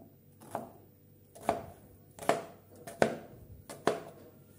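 A knife chops raw green mango into pieces on a board for a sweet-and-sour chutney, landing six crisp, evenly spaced cuts, close and clear with no talk.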